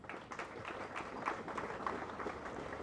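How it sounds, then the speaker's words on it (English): An audience applauds at an EU celebration in Harare, a steady dense patter of many hands clapping at moderate volume from start to finish, with no clear voices over it. "May we kindly give them a round of applause"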